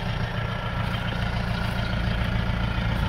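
A lifted Roxor with a three-inch straight-pipe exhaust idles steadily and loudly up close, a deep continuous rumble with no voices over it.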